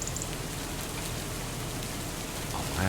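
Steady rain falls in Farming Simulator 25, a dense, even hiss of drops on surfaces that holds constant throughout and swells slightly at the end, with no voices.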